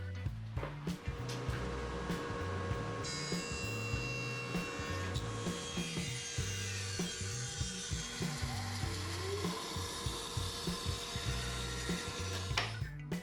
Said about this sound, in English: I'll get this jointed straight, then rip a 2-inch piece and then resaw it